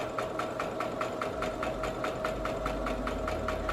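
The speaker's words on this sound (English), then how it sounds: "Just going to back stitch 1/4 inch." A sewing machine back stitches quilt pieces for a Dresden Plate wall hanging, its needle tapping in a fast, even rhythm over a steady motor hum, close and alone without talk.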